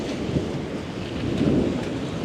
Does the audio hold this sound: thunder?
yes